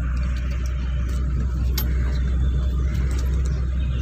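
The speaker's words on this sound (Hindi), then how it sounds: "अभी ये सेंट्रो चला रही हैं" A Hyundai Santro driven on a road, with a steady low engine and road rumble running throughout at a constant level, plus a brief faint tick near the middle.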